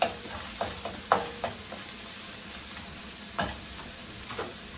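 Chopped shallots for mushroom risotto are tossed and stirred in a hot pan, giving a gentle continuous sizzle with several quick clacks and scrapes of the utensil, no voices.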